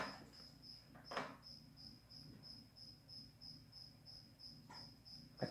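A cricket chirps steadily through an open bedroom window, a faint high repeating trill with a regular rhythm, joined by a few soft knocks and rustles nearby.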